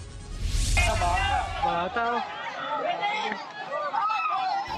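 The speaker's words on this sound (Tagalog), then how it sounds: "Maririnig ang sigawan at iyakan ng mga residente ng Santo Domingo, Nueva Ecija." Residents of Santo Domingo, Nueva Ecija scream and wail in distress after a tricycle plunged into an irrigation canal, several voices crying out and sobbing amid a commotion.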